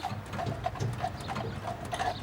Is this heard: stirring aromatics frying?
no